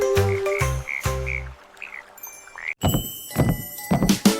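Repeated frog croaks, several loud rhythmic ribbits in a cartoonish style, are set within a French children's nursery song with music and clunky sound effects.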